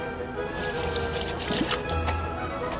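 Carrots are rinsed under running water, a steady trickle and splash with a few brighter splashes and clunks in the sink. No one speaks.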